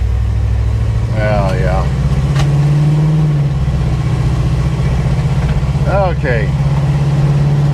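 The engine of a 1977 Chevy Monte Carlo idles loud and close, a steady low rumble with a slight swell in pitch midway, while a person says a couple of brief words over it.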